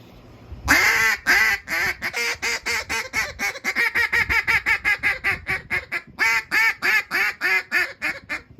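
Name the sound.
duck call imitating ducks quacking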